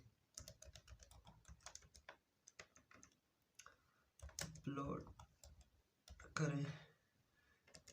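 Keys clatter on a computer keyboard in quick irregular bursts while someone uploads a YouTube video, close and fairly quiet, with someone talking over parts of the typing.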